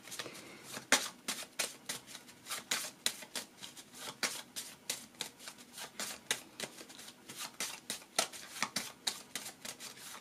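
Deck of tarot cards being shuffled and cut, a close, steady run of crisp riffling and slapping card sounds with no voices.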